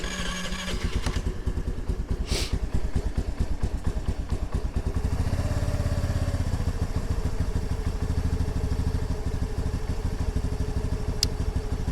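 Honda NAVI motorcycle engine, a 2022 model left sitting a while, running on choke: a loud, close, rapid putter that catches and settles into a steady fast idle with clattery mechanical tone.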